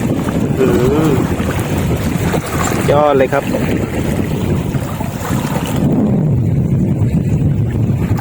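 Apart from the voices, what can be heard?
water waves and wind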